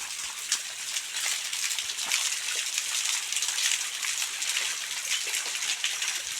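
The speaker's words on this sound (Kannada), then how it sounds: "ಈ ಬಂಡೆ ಮೇಲಿಂದ ಈ ಹೈಟಿಂದ ನೀರು ಹರಿತಾ ಇರುತ್ತೆ" Water pours down a bare rock face roughly 150 feet high in winter, making a steady, dense rushing hiss that stays even throughout with no voices.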